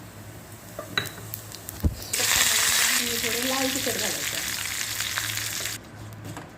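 A sudden loud sizzle as cumin hits hot oil in a kadhai, hissing steadily for a few seconds after some light clinks, while a voice speaks over it.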